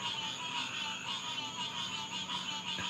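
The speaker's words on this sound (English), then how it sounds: "The frogs are starting to give me the fear." Frogs croaking in the woods at night, a steady faint chorus of rhythmic pulsing calls blended with insect-like trilling, continuous and distant with no talking.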